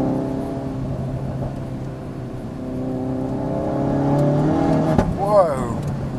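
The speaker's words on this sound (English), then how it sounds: "that's wheel spinning fourth on this road" A Hendy Performance HP500 Ford Focus RS, a 520bhp tuned hatchback, drones steadily from inside the car on a slippery road, its engine note climbing slightly before a sharp knock and a brief rising whine near the end.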